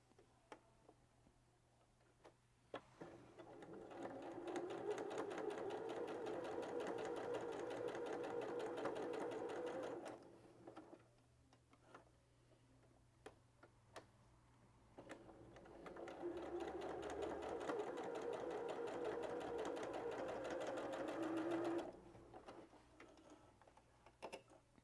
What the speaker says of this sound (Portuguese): E aí vai passar uma costurinha de cada lado para essa tirinha ficar bem firme.